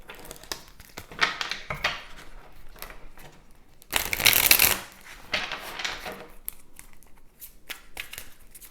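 Tarot cards are shuffled by hand close up in repeated quick riffling bursts, with one louder flurry near the middle.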